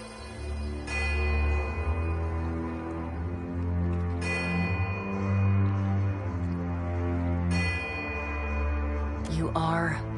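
Countless bells ring at once in a fantasy game scene, a dense sustained layered chime over a deep low drone, with fresh bell strikes swelling every few seconds and a shimmering sweep near the end.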